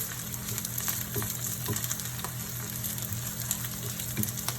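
Chow mein noodles fry in oil around the edges of a pan, giving a steady close sizzle with occasional soft pops and scrapes, no talking.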